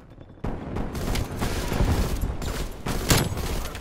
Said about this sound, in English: This man is just shooting his shotgun.